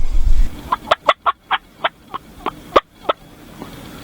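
Three wild turkeys gobble close by among hunting decoys, a loud series of about a dozen sharp, rattling calls spaced roughly a quarter second apart, after a brief rustle at the start.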